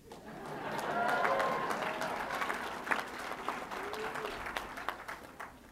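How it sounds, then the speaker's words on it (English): Graduates and alumni of Penn State cheer and applaud at a university presidential inauguration, a broad crowd roar with steady clapping swelling early and holding through, with scattered voices mixed in. "can I hear a cheer from all of those who have attended or graduated from Penn State?"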